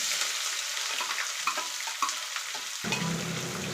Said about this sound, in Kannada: ಇದು ಅಷ್ಟೇ, ಈರುಳ್ಳಿನೂ ಅಷ್ಟೇ ಚೆನ್ನಾಗಿ ಫ್ರೈ ಆಗಬೇಕು.